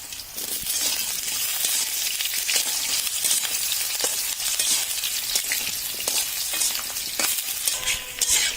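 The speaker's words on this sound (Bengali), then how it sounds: "আমাদের আলুগুলো ভাজা ভাজা হয়ে যাচ্ছে" Potatoes frying in a pan for a green mango and mola fish dish, a strong, steady sizzle near at hand with repeated scraping and clinking as they are stirred.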